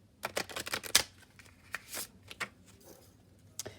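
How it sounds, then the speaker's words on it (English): A small deck of tarot cards being shuffled on a table, a quick burst of crisp riffling flutters followed by scattered softer card slaps and taps, close and fairly quiet. "I'm going to go ahead and do a couple of heart shuffles down here on the table"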